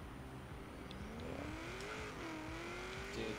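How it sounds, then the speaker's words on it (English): A tuned car set up for drag racing in Forza Horizon 3 revs hard, its loud engine note climbing steadily and continuously throughout with no voices. "Dude, this game audio is just screaming. This car is excessively loud, dude."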